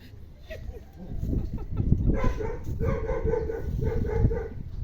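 A dog barks several times in short bursts amid clucking chickens and other farmyard noise, with a voice speaking briefly nearby.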